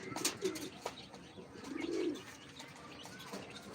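Close pigeon coos roll out in two or three low throaty phrases, with a brief sharp chirp early and quiet background between calls.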